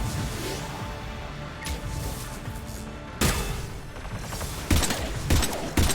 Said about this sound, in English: Just get him with the sentry gun